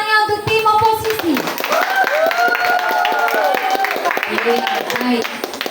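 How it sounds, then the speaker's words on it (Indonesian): Students at a school debate semifinal clap together in a steady burst of applause, with chattering voices and shouts mixed in. "Mana tepuk tangannya untuk tim oposisi?"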